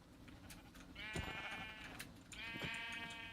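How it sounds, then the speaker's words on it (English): Minecraft sheep bleat twice in a rainy, dark game world, each a wavering nasal baa lasting about a second, with a few soft clicks and taps in between and no talk. "Sheep."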